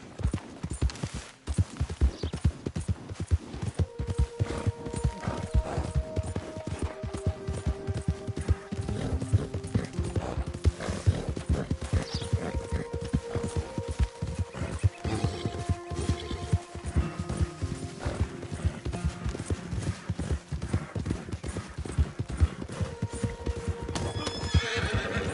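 Horse galloping and neighing in Red Dead Redemption 2: continuous rapid hoofbeats with repeated whinnies and snorts over a game soundscape, loud and close throughout.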